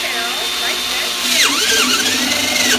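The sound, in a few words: power drill drilling holes in plastic rain barrel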